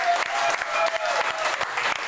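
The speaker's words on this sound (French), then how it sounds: "Je demanderai une bonne main d'applaudissements pour Monsieur X pour son anniversaire" Warm, dense applause from a studio audience at a sports broadcast launching the NFL season, marking a producer's birthday, loud and continuous with a faint voice in the mix.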